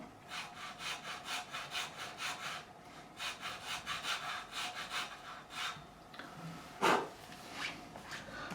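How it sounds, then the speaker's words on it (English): A file cuts a string slot in the nut of an Epiphone Les Paul Plus Top Pro, a close, steady back-and-forth rasping in rhythmic strokes, quiet and with no talk. "This file is exactly the same width as the string that's going in there, so the string won't pinch or get stuck."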